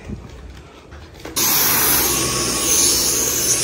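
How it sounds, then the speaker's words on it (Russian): A household vacuum cleaner switches on abruptly after a quiet room and keeps running with a steady, loud, close whine during home cleaning. "А у меня пылесос."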